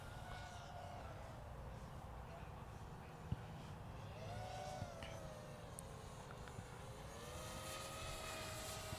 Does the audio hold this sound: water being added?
no